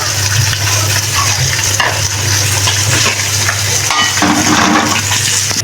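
Fish pieces frying in oil make a loud, constant sizzle, while a utensil stirs and scrapes the pan with brief clinks as the fish is lifted out.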